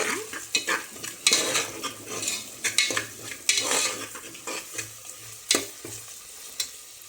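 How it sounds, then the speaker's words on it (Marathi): Tomatoes being stirred in a frying pan for a Sangli-style pavta rice dish, a soft sizzle under repeated scraping clinks of a spoon against the pan, close and irregular. "आता टोमॅटो पण टाकले."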